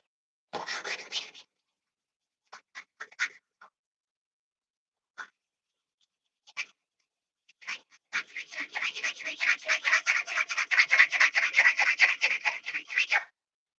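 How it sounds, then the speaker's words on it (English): A pin for an HPI Savage 5T RC build being ground down, scattered short rasping bursts and then a long run of rapid rhythmic scraping, close and moderately loud. "You gotta grind this down so it fits because that damn pin"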